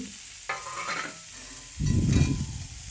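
Cauliflower florets frying in hot oil in a home kitchen as they are stirred, with a few scraping stirs followed by a loud, close sizzle in the pan.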